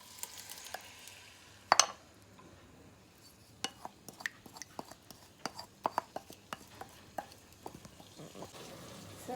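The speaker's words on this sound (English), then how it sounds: "So we're gonna add our curry paste in there now." Curry paste and spices fry and get stirred in a pot with shrimp for a Guyanese eddo and shrimp curry, giving a soft sizzle broken by a run of sharp scrapes and knocks of a spoon against the pot, no talking.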